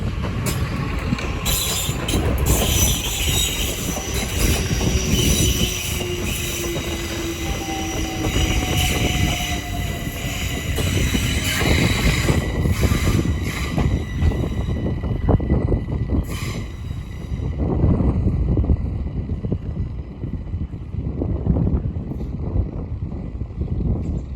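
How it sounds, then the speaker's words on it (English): London Overground service pulling away from Bushey station on the West Coast Main Line, its loud, steady rumble and wheel noise filling the whole stretch with passing clatter and a brief high squeal. "Now departing is the 1426 London Overground service from London Euston to Watford Junction."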